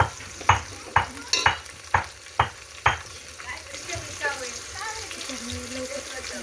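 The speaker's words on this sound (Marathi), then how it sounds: "त्याला आता थोडा वेळ मस्त भाजू देऊया तेलामध्ये." Onions fry in oil in a pan for biryani, with a spatula scraping and clanking in a quick series of sharp strokes over a soft sizzle, then a voice speaks over the quieter frying.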